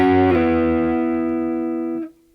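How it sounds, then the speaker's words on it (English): Two strings of a guitar ring together as a double stop with a quick slide early on, then sustain and fade steadily for about two seconds, close and clean with no voices. "try sliding up and down."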